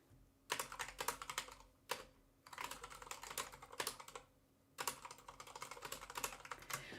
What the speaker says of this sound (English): Listen to this typing real quick.